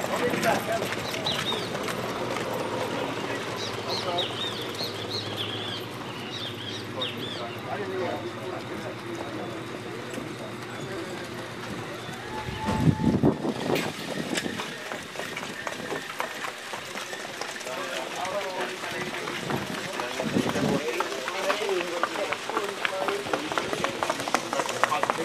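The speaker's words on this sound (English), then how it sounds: "Here come our ponies." Harness racing ponies trotting toward the gate at a Bermuda pony race, with steady hoof clip-clop and track noise under continuous crowd chatter and announcing.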